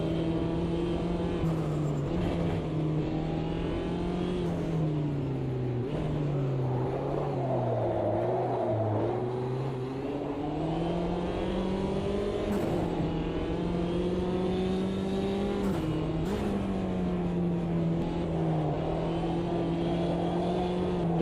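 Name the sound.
racing car engine in a sim racing video game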